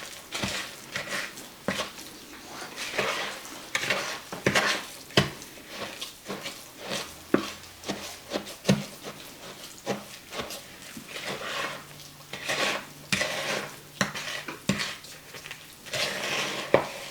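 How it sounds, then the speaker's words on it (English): A spoon stirs peanut butter into crushed graham crackers in a bowl, making repeated scraping and knocking strokes in an uneven rhythm. It is close and moderately loud, with no voices. "you want to stir this really good to get all that peanut butter in with the graham crackers"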